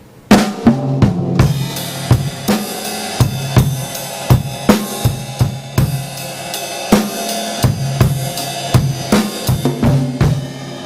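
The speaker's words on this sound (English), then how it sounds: "which can be either like a triplet feel, or it's also called a 12/8 feel. Sounds like this." Drum kit playing a slow blues groove in a 12/8 triplet feel, with kick, snare backbeats and ride or hi-hat triplets, loud and close with no talking.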